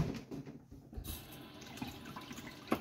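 A faint trickle of tap water rinses a small yellow pineapple tomato in a kitchen, with soft splashing close by and no talk.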